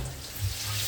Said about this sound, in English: So guys, I pour some of the hot water in the bowl.